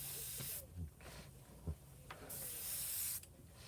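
Short bursts of airbrush paint spraying, a close, bright hiss that starts and stops several times with quiet gaps and soft handling clicks between, then a longer spray near the end.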